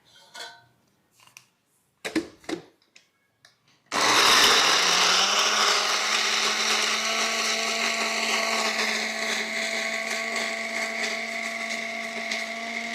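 A mixer grinder whirs loudly and steadily as it grinds chopped curry leaves, garlic and onion, starting abruptly after a few soft kitchen clinks and running on alone.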